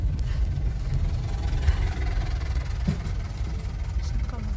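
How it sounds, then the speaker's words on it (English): A tractor engine runs on a countryside road, a steady low idling rumble heard continuously and fairly loud throughout, with no talk. "Ang cute, may tractor!"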